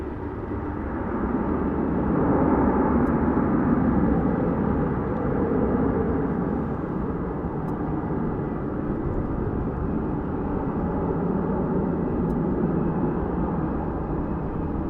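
Boeing 737-800 airliner at DFW International Airport, its broad engine roar steady and fairly loud throughout, swelling slightly early on, heard from a distance with no voices.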